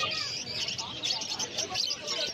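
Zebra finches and other cage birds at the Uluberia pet market chirp in quick, light bursts over a low crowd murmur and nearby voices.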